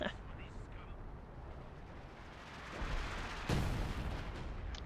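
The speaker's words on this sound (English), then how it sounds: "Counter barrage from the B4." A B4 howitzer counter-artillery barrage in the video game Company of Heroes 2 rolls as a dense, distant rumble of booms, with one heavier thud standing out, under a voice talking over the battle.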